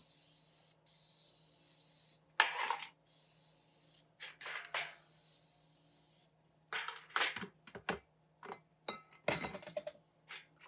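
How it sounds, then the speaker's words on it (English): Several bursts of butter-flavored non-stick cooking spray hissing close by, the first ones long and steady, followed by shorter sprays mixed with light clinks and rubbing. "I'm just going to spray it with some butter non-stick cooking spray."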